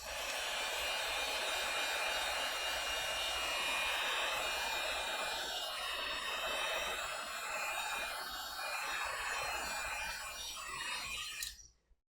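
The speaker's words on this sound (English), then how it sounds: "use my heat gun, which I can then kind of blast in there." A heat gun blasts a steady, loud broadband rush of air to dry ink on rag paper, running continuously up close before cutting off abruptly near the end.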